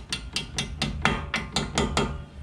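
Sharp hammer taps on brake parts of a BMW M235i (F22) during a brake pad job, about eight evenly spaced close metallic knocks with no talking.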